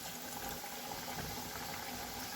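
Chicken pieces lowered into hot frying oil for homemade fried chicken give a faint, continuous bubbling hiss, steady and even across the short moment with no voices.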